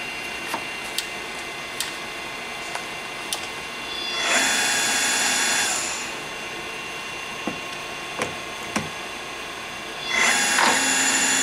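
A Willis-Bergo TM50 radial drill with a 4-foot arm and a 5-horsepower spindle motor runs with a high feed rate: faint mechanical ticks and clicks, with two short bursts of hissing whir as the feed engages.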